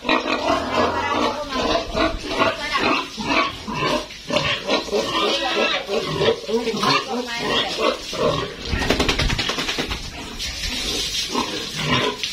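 Pigs, sows with their piglets, grunt and squeal continuously and loudly up close while being washed down with water on a farm; some speech is faintly mixed in.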